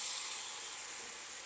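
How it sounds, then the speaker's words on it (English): Cornbread batter hitting hot oil in a cast iron skillet produces a soft, steady hiss of sizzling, close up and fading slightly over the short span, with no voices. "Hopefully you can hear it sizzling as it hits that oil in the skillet."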